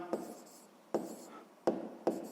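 A pen writes on paper in four short, crisp strokes spaced about a second apart, each a brief scratchy burst heard up close in a quiet room.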